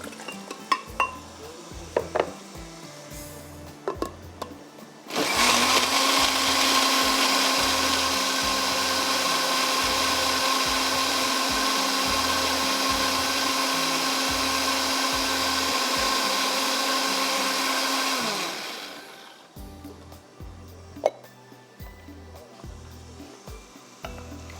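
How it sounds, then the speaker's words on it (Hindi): A blender whirs loudly and steadily for about fourteen seconds, making a paste for chicken coconut curry, with scattered kitchen clatter and taps before and after. "ये ब्लेंडर में जाएगा और इसका हम पेस्ट बना लेते हैं"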